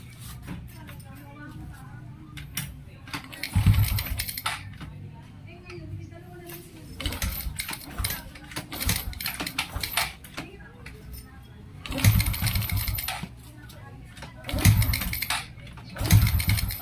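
A carbureted Honda RS 125 motorcycle engine idles very low and uneven up close, with a steady low rumble broken by several louder bursts as the throttle is blipped.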